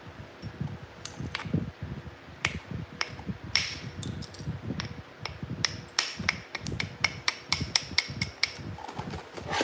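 A flintknapping bopper strikes and presses into stone, giving a dense run of close, sharp clicks and ticks over a low rumbling background, irregular and rapid throughout.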